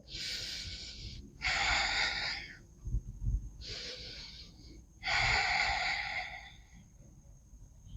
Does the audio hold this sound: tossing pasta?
no